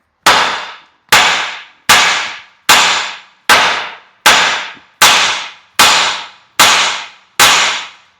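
Ten hard hammer blows ring out on a Dodge Ram truck's front axle, evenly spaced about a second apart, each a loud sharp metallic strike that decays quickly, with nothing else heard between them.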